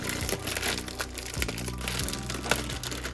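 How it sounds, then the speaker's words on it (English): Instant noodle packages are torn open by hand, giving a rapid run of close crinkling and crackling plastic sounds with sharp snaps, alone and fairly loud. "Next, we're gonna open these packages."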